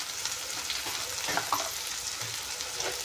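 Cauliflower and potato with turmeric and garam masala fry in a pan with a dense, continuous sizzle, while a spoon scrapes and stirs through it in a few soft strokes, close and steady.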